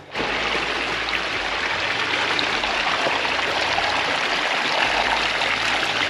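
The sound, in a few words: natural spring water stream flowing on Kilimanjaro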